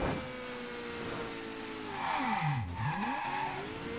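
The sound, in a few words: car driving in the video game Mafia III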